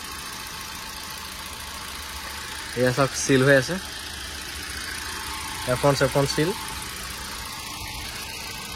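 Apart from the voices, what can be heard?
car engine idling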